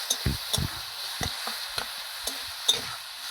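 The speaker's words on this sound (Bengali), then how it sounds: "মধ্যে একটু সামান্য হলুদ দিয়ে এবার ভেজে নেবো এটা আরও ভালো করে" Spice paste with a pinch of turmeric being fried in a wok: a soft sizzle runs underneath while a spatula scrapes and knocks in a loose rhythm, about half a dozen distinct strokes, close and moderate.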